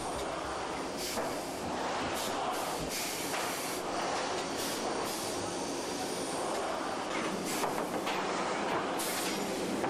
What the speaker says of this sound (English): suction cups lift the boards to the veneering machine